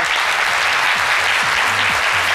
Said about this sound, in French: Je veux vraiment qu'on applaudisse cette troupe.